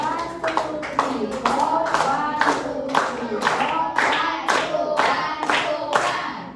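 Students in a class clap the 'tepuk fokus' rhythm in sharp unison bursts, the claps falling in counted patterns between chanted voices.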